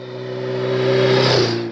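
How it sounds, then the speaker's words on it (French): A Triumph 1000 Daytona motorcycle with an inline four-cylinder engine revs up, a loud, close, smooth rising engine tone with steady harmonics that swells and holds, alone without talk. "Mesdames et messieurs, voici la Triumph 1000 Daytona."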